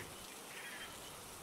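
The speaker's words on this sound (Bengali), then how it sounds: "তখনও সমানভাবে বৃষ্টি পড়ে চলেছে" Steady rain falls outside a village house at dawn in a Bengali ghost story, a faint, even patter with a soft hiss and no voices.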